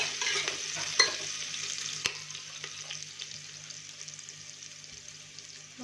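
Finely chopped onion with ginger-garlic-coriander paste sautés for a village-style mutton curry, giving a quiet, soft sizzle broken by a few sharp spoon clicks against the pan.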